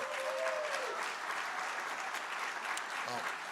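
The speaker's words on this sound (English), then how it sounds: "Give them a round of applause." An audience applauds steadily at an airport event, a short continuous wash of clapping from a crowd, fairly faint and even throughout.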